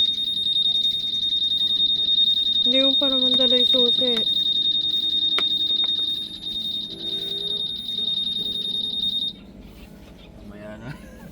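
A motorcycle alarm set off from its remote sounds a loud, continuous high-pitched electronic tone for about nine seconds, then cuts out, while people talk nearby at a beach resort in Batangas.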